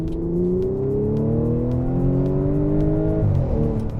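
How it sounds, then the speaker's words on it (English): An Audi S5's V6 exhaust rumbles steadily as the car accelerates, engine pitch climbing smoothly and then shifting near the end, loud and close from inside the cabin with no talking. "I love the rumble that exhaust makes. That V6 makes such a nice note."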